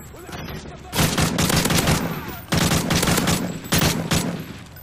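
Rapid bursts of automatic gunfire in a Modern Warfare 3 Resistance survival match, three loud, close volleys of several seconds each separated by brief pauses, with no talking.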